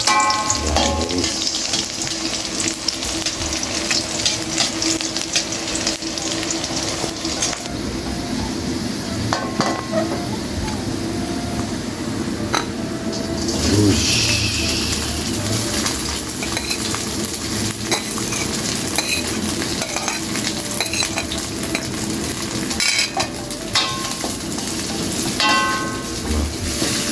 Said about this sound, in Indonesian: ini goreng dulu bawang merah dan bawang putih yang